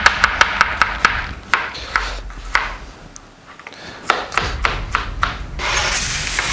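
A knife dices food on a board in sharp rapid taps, a quick burst at the start, then slower scattered chops, a brief pause and another run of cuts over a faint background hiss.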